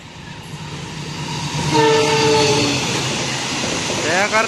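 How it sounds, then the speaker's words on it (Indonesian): The Bima train passes straight through Buaran station on the western double track, a loud rushing rumble that builds and holds with repeated horn blasts sounding over it. "Sisi barat double track melintas langsung kereta api Bima."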